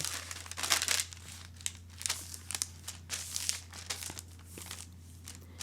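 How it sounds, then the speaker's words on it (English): A sheet of paper skirt pattern is folded along its center back line, giving soft crinkling and rustling with a few sharper crisp creases over several seconds, close and fairly quiet, with a steady low hum beneath. "Folding along the center back line."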